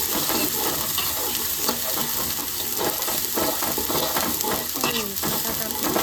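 Dal simmering in a pot with salt and red chili just added, giving a steady bubbling sizzle with faint stirring scrapes throughout and no talk.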